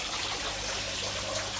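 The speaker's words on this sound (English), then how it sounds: "it just automatically started a siphon into the tank" Water siphoning from a pond through a hose into a secondary tank, a steady broadband trickling and rushing flow heard close and continuous, with no voices.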